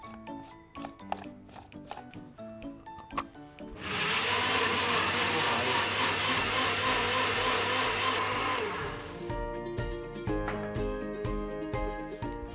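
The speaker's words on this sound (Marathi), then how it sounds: "तर आपल्याला ह्याला मिक्सरला लावायचं." A kitchen mixer grinder blends coriander and mint, running loud and steady for about five seconds with a dense, close whir; clatter and knocks come before and after.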